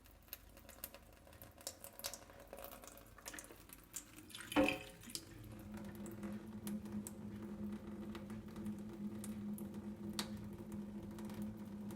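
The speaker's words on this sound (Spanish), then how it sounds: "llenar de agua el cajetín del suavizante sobrepasando el nivel máximo y ver si cae por su propio peso" Water poured into a washing machine's fabric softener drawer, filled past its maximum level, runs as a steady, moderately loud rush. It starts after a short clatter near the middle and continues without pause to the end.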